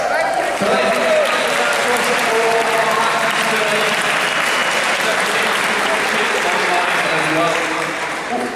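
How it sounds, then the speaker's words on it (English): Sustained audience applause at a Q&A panel event for a digital drama series, a dense, steady clapping that fills the whole stretch and fades slightly at the end. "everyone let's give a round of applause"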